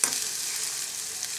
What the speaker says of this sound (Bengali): পেঁয়াজ কুচি আর রসুন কুচি দিয়ে দিচ্ছি, তেল দিয়ে দিচ্ছি